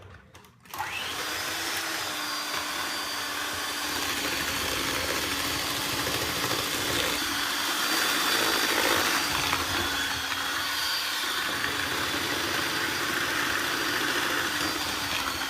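An electric mixer beats chocolate chip cookie dough while flour is added, giving a loud, steady whirring drone that starts abruptly and runs unbroken at close range.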